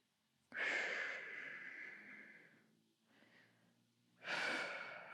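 A pregnant woman doing a relaxation exercise on a fitness ball takes slow, close breaths: one long airy exhale, a softer follow-up breath, then another strong breath, with no speech.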